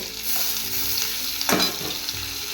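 Tomatoes go into a pan of frying ginger garlic paste, giving a continuous close sizzle with a stirring scrape and a sharp burst midway.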